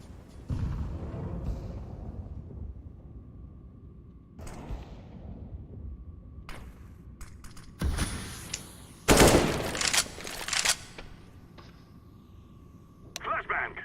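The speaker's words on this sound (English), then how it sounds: "I'm throwing a grenade." Gunfire and a grenade blast in Counter-Strike, with bursts of shots and a loud explosive burst in the middle, heard under a player's ongoing talk.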